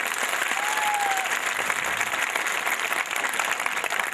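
Sustained, dense applause from a seminar audience welcoming first-time attendees, loud and steady throughout with a brief faint tone briefly over it.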